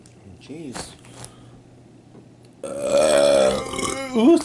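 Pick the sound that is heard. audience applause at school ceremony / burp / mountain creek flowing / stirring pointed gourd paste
burp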